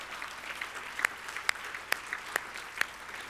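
Audience at a speech by the Premier of Alberta applauding, a steady patter of clapping with a few sharp louder claps standing out, fairly faint and distant.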